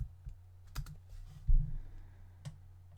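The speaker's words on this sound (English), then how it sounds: "let's just go ahead and type in the command hide." A few light computer keyboard keypresses as a command is typed in Rhino 3D modelling software, quiet isolated clicks spread over a few seconds over a low steady hum.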